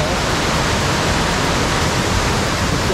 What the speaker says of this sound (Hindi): तो ये वाटरफॉल देखो